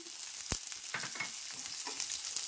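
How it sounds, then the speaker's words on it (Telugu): Green chillies fry in a pan for a beetroot black channa curry, a soft continuous sizzle punctuated by a sharp clack near the start and a few light stirring scrapes, close and wordless. "ఇవన్నీ బాగా ఫ్రై అయ్యేటట్లు ఒకసారి ఫ్రై చేసుకొని ఇవి వేగుతున్నాయి కదండి"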